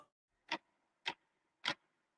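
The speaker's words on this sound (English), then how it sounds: "The clock is ticking," A clock ticking, three crisp, faint ticks evenly spaced about half a second apart against near silence.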